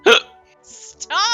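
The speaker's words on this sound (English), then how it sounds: "This is not how you get rid of hiccups" Sharp, loud hiccups burst out at close range, one at the start and another near the end, with a person talking in between.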